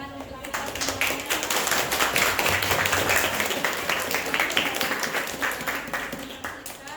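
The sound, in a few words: classroom applause at end of lesson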